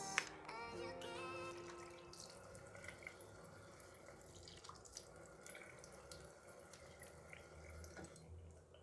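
Tap water running into a sink while someone wets their face, a continuous moderate splashing stream with a few brief clinks and drips at the start.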